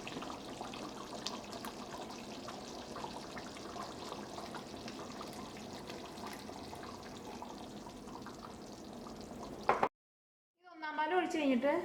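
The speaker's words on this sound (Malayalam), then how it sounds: "ഇതിലേക്ക് നമുക്ക് 1-ാം പാൽ ഒഴിക്കാം." First-pressing coconut milk poured into a simmering potato stew makes a steady, continuous liquid rush for about ten seconds, then stops abruptly, followed by a short clatter.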